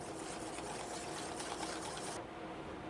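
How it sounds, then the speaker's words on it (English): Egg yolks and whole eggs whisked briskly in a mixing bowl, a continuous rapid scraping rattle that cuts off near the end, no talking. "2 egg yolks. And we'll whisk that in"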